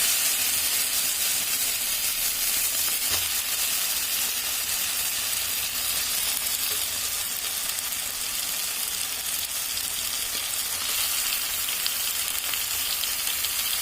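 Meat dropped onto well-fried spice paste sizzles loudly and steadily in the pan, a dense unbroken frying hiss close by for the whole stretch, with only faint knocks underneath and no speech.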